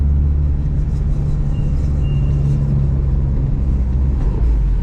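Boosted Honda CR-V with all-wheel drive cruising under steady, loud engine rumble, a faint high turbo whistle rising briefly in the middle.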